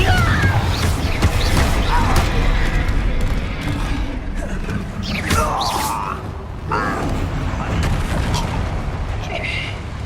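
Confringo and Bombarda spell blasts in Hogwarts Legacy, with repeated booming explosions and crashing impacts over a dense rumble, loud and continuous, along with whooshing magical effects and a voice shouting out spells.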